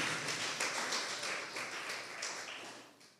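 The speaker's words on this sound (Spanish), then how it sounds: "Démosle un aplauso al Señor si no está asustado" A church congregation applauds, steady soft clapping from many hands at a distance, fading slightly toward the end.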